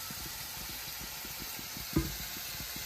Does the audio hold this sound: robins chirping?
no